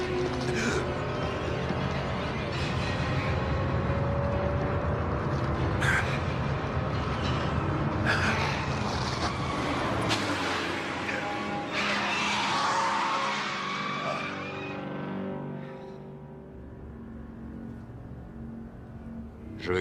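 A car in an action film accelerates hard, then its tyres squeal and skid in long sweeping screeches over a roaring engine before the sound tapers off near the end.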